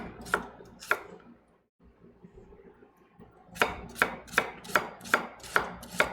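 A knife cuts an onion lengthwise into long strips on a cutting board for ratatouille. Two sharp chops come first, then a pause, then a quick, regular run of about seven crisp knife strikes, close and distinct.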